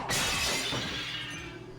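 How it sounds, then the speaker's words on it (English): A glass window in the video game Tokyo Necro shatters with one sudden bright crash, followed by a short tinkling decay of falling shards. "The glass finally breaks, but so does my chainsaw."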